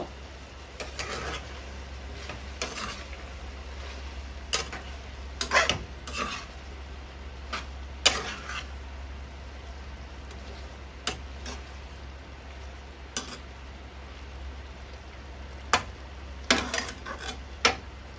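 Udon noodles stir-fried with vegetables in a pan, with faint background sizzle and scattered scraping and clattering strokes of a utensil against the pan at an uneven pace.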